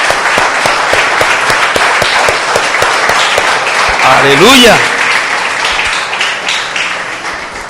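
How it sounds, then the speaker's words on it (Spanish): A church congregation breaks into loud, continuous applause during a Christian worship service; midway a voice briefly calls out over the clapping, which keeps going to the end. "Denle un aplauso al que vive para siempre"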